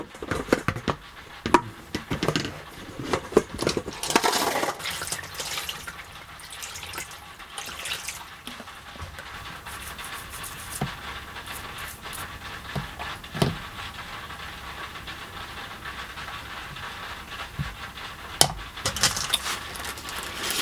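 Tumbled rocks are rinsed out of a rock tumbler barrel, with running and splashing water and irregular stony clinks and rattles, busiest at the start and returning in scattered bursts, no speech.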